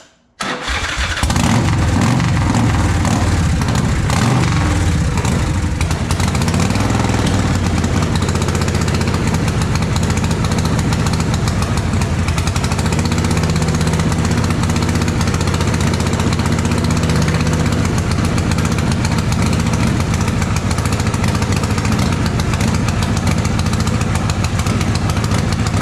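A Big Dog motorcycle that has sat in storage for eight months starts with a sudden catch, then settles into a loud, continuous, rumbling idle that runs on unbroken at close range, with no voices.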